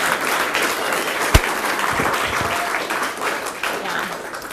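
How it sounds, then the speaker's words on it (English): A gallery audience gives a steady round of applause at an art talk, a dense even patter of clapping with one sharp louder clap near the start. "Really big round of applause for them."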